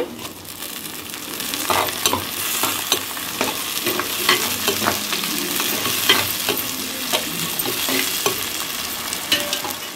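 Tomatoes sizzle as they fry in sautéed onions, with a continuous crackle and repeated spatula stirring and scraping against the pan, fairly loud and close, no voices.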